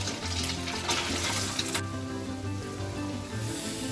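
A broken egg fries in a pan with a steady, close sizzle. The hiss stays loud and continuous with small crackles, and no one talks over it.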